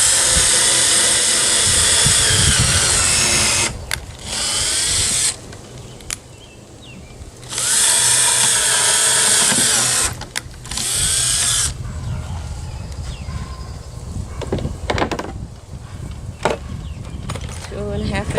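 A power drill driving 2.5-inch screws into a wooden fire pit bench, loud close bursts of high whirring separated by short pauses and handling knocks, with a final softer, shorter run.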